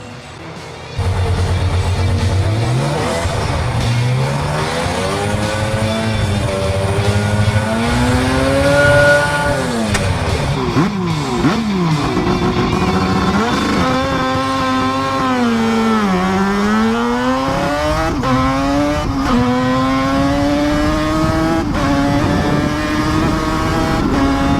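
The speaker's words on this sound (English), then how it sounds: "The soft, high roar that came from the 2 mufflers remained in memory." Norton F1 motorcycle engine roaring through twin mufflers, a loud, close, high-pitched howl that starts abruptly, then rises and falls repeatedly through revs and gear changes for a long continuous run, with no talking.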